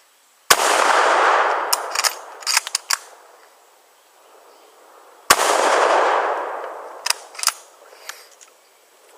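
A Mosin Nagant M91/30 rifle fires outdoors, two sharp loud reports several seconds apart, each followed by bolt-action clicks and clatter of cycling the action, with quiet pauses between.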